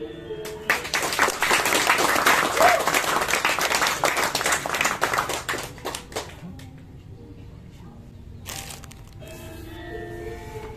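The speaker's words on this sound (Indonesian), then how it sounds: "Tepuk tangan untuk Greg." An audience bursts into dense applause for about five seconds, then the clapping thins out and fades, leaving quieter room sound with a brief clatter near the end.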